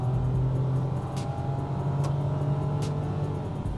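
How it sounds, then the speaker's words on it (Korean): A steady, loud engine drone from inside a Kia Ray compact car, with a low hum and faint rattles, holding a constant pitch rather than clearly revving up. "엔진의 소음이 무척 커요"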